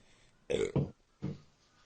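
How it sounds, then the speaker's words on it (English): Three short, throaty belches in quick succession, close and fairly loud, with quiet pauses between them. "Sorry, guys, I belch."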